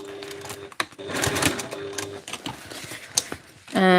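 A home sewing machine stitches fabric seams at a short stitch length, a close, fairly loud mechanical whirr in bursts with brief pauses and a sharper rattle at the end.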